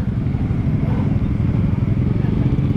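Several motorcycles idle and rumble together outdoors, a loud, close, continuous low engine drone throughout.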